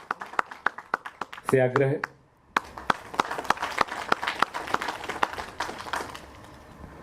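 Audience claps at a journalists' foundation day ceremony, with distinct, fairly close hand claps in an irregular rhythm, briefly interrupted by a speaking voice before the clapping resumes and thickens.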